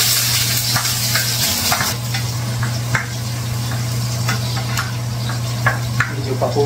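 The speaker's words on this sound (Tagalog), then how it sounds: "Ihulog po natin ay ang sibuyas." Onions fry in a pan for a Filipino santol dish, giving a steady, close sizzle with occasional sharp taps and scrapes from stirring.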